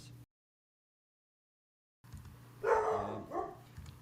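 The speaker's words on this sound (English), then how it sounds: "There was a dog bark." A single dog bark picked up during a podcast recording, heard fairly close after a brief dropout of silence, with low background hum around it.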